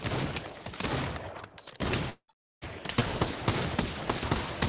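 Dense, rapid gunfire from the VR shooter Pavlov Shack, loud and continuous bursts that cut out briefly to silence before resuming just as intensely.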